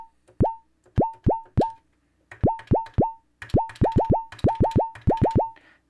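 A Pearl Syncussion analog drum synthesizer fires a rapid run of electronic tom hits, each a pitch-sweeping zap with a quick decay. The hits fall in uneven bursts of three or four and sound close and clear, with no talking.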